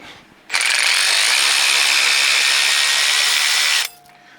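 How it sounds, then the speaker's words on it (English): A cordless electric ratchet whirs loudly and steadily for about three seconds, spinning an 18mm bolt off a Jeep Wrangler JK sway bar mount, starting and stopping abruptly with no voices. "We have our electric ratchet."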